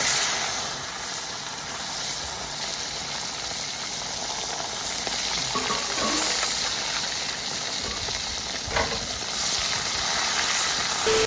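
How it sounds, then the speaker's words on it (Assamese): Fish sizzling as it is slid into hot oil in a home kitchen, a steady bright crackle and hiss that runs continuously and close, with a faint spatter burst near the end and no talking. "এইপিনে মোৰ তেল গৰম হৈ গ'ল তো এতিয়া মাছটো লাহেকৈ এৰি দিওঁ"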